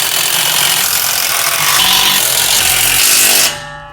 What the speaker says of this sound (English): Next, we're going to tighten up the carriage bolts.